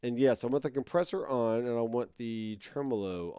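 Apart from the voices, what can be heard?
No everyday noises stand out.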